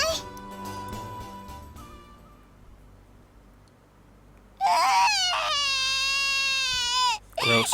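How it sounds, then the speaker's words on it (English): A child crying in the video game If My Heart Had Wings: loud, close wails with wavering pitch that break off briefly and resume, after quieter stretches of music and background tones. "I suddenly heard a child crying."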